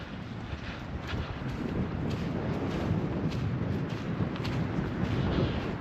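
Strong wind buffeting the microphone, a constant low roar with gusty rumbling that never lets up.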